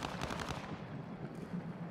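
A dense, continuous burst of gunfire rattles in a video game battle royale match, steady and fairly loud, with no talking over it.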